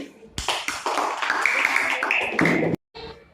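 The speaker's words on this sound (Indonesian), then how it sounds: "Tepuk tangan anak-anak" Children clap together in a classroom, a short burst of many hands slapping in brisk, uneven rhythm that starts abruptly, runs for a couple of seconds and cuts off, with a faint trailing patter after a brief gap.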